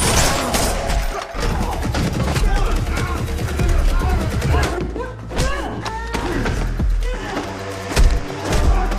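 Action scene from the film The Continental with repeated gunshots and bursts of gunfire during a chase, amid thuds, crashes and a dense soundtrack, with voices mixed in.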